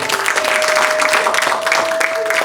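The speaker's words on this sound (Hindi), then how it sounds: "इनके लिए भी एक बार जोरदार तालियां" Audience applause for a singer at a Bollywood romantic-hits musical concert, dense steady clapping from a crowd, loud and continuous, with a faint steady tone running through it.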